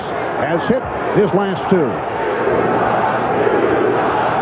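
Basketball arena crowd at the 1996 NBA Finals, Seattle at Chicago, roaring and groaning over a disputed non-call, a loud sustained wash of voices under a commentator's talk.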